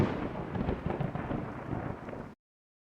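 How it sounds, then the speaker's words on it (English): Lightning strikes a tree in the ground, making a dense, crackling burst of rumbling thunder that sounds loud and close, sustained for about two seconds before stopping dead. "The cracking sound you hear is the lightning hitting the tree in the ground."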